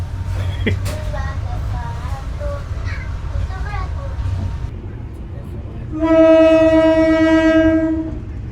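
The Putri Deli train hauled by double BB 203 locomotives arrives at Perlanaan station, rumbling beneath a station announcement before a long, loud two-tone horn blast sounds near the end.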